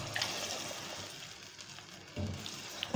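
Yakhni stock poured into an aloo gosht curry, a soft steady trickle and slosh of liquid with faint sizzling beneath, close and quiet.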